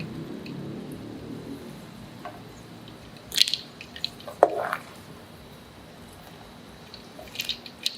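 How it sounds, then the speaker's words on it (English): Boiled carrot drained and dropped into cold water while cooking tofu dishes: a quiet stretch, then a few soft wet splashes and drips near the middle, with a brief splash again near the end. "drain and put in a cold water as well."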